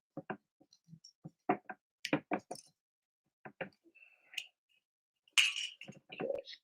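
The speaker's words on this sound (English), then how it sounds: "Let me get this metal top off of this glass." A metal top being removed from a glass cognac bottle produces a sparse series of quiet clinks, ticks and small knocks, with brief scraping and a sharper rattle near the end, heard alone and close.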